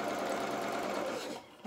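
A sewing machine runs steadily as it stitches fabric for a pair of trousers, a close, even whirring hum that slows and stops near the end with a small clunk.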